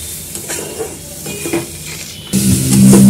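Chicken masala cooking in a pan, with light stirring and scraping for two seconds before water is poured in, bursting into a loud, steady sizzle that swells toward the end.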